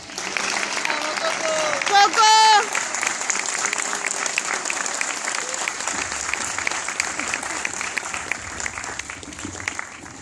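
A crowd at a Star Wars fan convention in Argentina applauds steadily and loudly for a costumed Jedi, a dense wash of clapping lasting the whole stretch, with a brief voice rising above it near the start.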